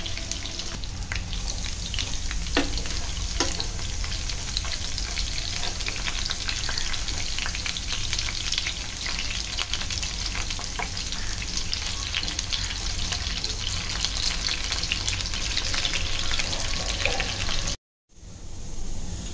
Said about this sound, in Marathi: त्याचा जो तडतड आवाज येतोय ना तो अगदी कमी झाला पाहिजे, म्हणजे त्याच्यातला पाण्याचा अंश निघून गेला पाहिजे.